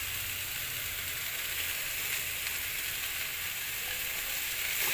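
Water lily stems sizzle steadily in a hot pan as they are stirred with salt and turmeric, a constant close frying hiss with no pauses and no voices.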